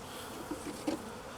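Honey bees buzz steadily at an open hive during requeening, a dense close hum with a few louder swells as individual bees pass near, no voices.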